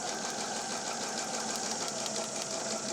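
A sewing machine stitching foundation-pieced patchwork runs steadily backwards and forwards along a seam, a continuous close mechanical whir with no talk.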